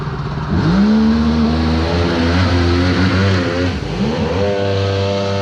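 Small 1100 engine of a mini jetboat revving up hard as the craft sinks and struggles in soft, sticky mud, a loud, close, steady rising engine drone with pitch sweeps and no talking.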